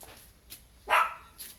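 A Pomeranian, a small fluffy bear-type dog, gives a single sharp bark up close with a couple of fainter yips around it, against quiet rural background.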